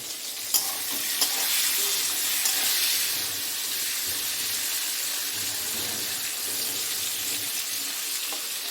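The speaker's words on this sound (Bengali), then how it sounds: "দেখো পটলগুলো বেশ ভাজা ভাজাও হয়ে গেছে" Pointed gourd pieces fry in a pan with a soft, continuous sizzle and occasional stirring clicks, steady and moderately quiet throughout with no voices.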